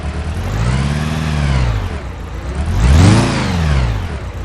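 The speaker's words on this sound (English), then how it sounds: "Yeah, you can hear the engine doesn't sound well." A simulated car engine running rough with a cylinder 2 misfire and a lean condition revs up and down twice, rising and falling in pitch, close and loud with no talking.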